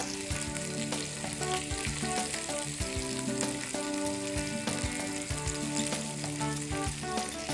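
Shallots frying in a pan with chilli powder give a steady, close sizzle that runs the whole time, partly buried under louder tonal background music.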